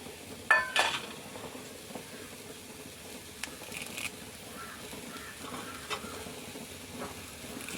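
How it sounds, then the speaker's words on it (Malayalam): Coconut roasting in a pan with onion, garlic and fennel seeds, a quiet, steady sizzle with occasional scrapes and stirring knocks, one sharper clatter near the start. "നമുക്ക് തേങ്ങ നന്നായി വറുത്തെടുക്കാം ഉള്ളി വെളുത്തുള്ളി പെരിഞ്ചീരകം"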